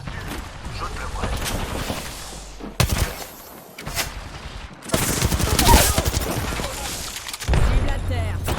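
Rapid bursts of video game gunfire crackle loudly in several volleys separated by brief lulls, with a player talking over the shooting.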